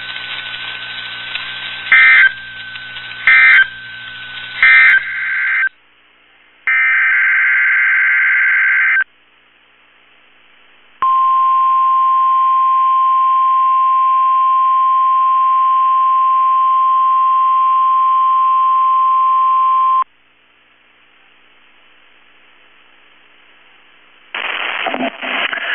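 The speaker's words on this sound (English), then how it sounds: "Activated the warning alarm on 13 weather radio stations across central and southern Minnesota and west central Wisconsin." A NOAA Weather Radio emergency alert broadcast plays loud digital data bursts, then a harsh two-tone warning alarm, then a long, steady single-pitch alert tone that cuts off before another burst of data.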